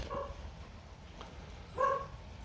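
A small dog frightened by thunder gives a couple of brief, faint whimpers, one early and one stronger near the end, over a low steady background hum with no talk.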